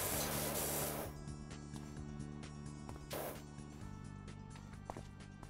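Pressure washer spraying in PowerWash Simulator, a steady hissing jet that fills the clip, loud at first and then continuing slightly softer over a suburban neighborhood scene, with faint game clicks.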